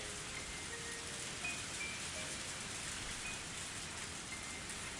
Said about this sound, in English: I felt like I was left alone in the heavy rain.